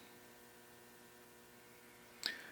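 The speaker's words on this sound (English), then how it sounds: "The old fluorescent lighting hums and you can hear it in the background" A faint, steady electrical hum from old fluorescent lighting in a basement workshop runs through the background, ending with a brief louder rustle or click.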